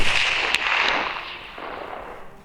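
A volley from Mk I Lee Metford rifles cracks out as one sharp report and then rolls away in a long, fading outdoor echo.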